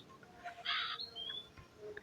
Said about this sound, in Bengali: ওই কাকটা এরকম কাকা করে কেন?